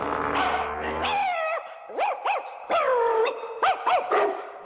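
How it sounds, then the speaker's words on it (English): Several caged dogs bark and yelp loudly and close by in overlapping bursts, with rising whining yips mixed among the sharper barks. "There must be 5, 6 dogs at least here, and they're all shut up in cages."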